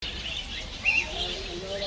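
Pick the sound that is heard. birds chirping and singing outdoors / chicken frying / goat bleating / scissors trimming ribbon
birds chirping and singing outdoors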